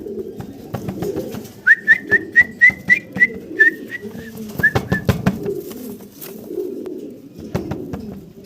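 Four male fancy pigeons at a pigeon seller's give a quick run of about eight short, clear, whistle-like calls, followed by a couple more, close and fairly loud over a busy background murmur.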